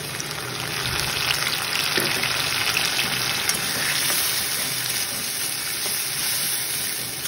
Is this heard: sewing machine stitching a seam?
no